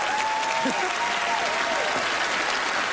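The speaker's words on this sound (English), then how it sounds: "let's have a round of applause for him as he makes his way out" A theater audience at a magic show breaks into dense, sustained applause, loud and continuous, with a few faint voices calling out beneath the clapping.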